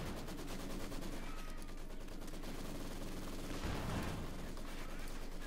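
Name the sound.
Maxim machine gun fire in video game Company of Heroes 2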